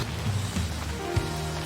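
Rain falling steadily outdoors with a low drumming patter and a soft thud partway through, short and continuous at moderate level, no voices.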